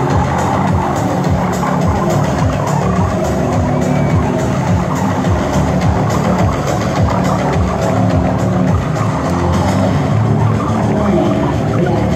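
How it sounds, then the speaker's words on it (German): A truck doing a tire burnout at a stunt show: a loud, continuous roar of a heavy engine with grinding, screeching tires, sustained and dense for the whole stretch with no pauses. "hier zeigt man Burnout im LKW"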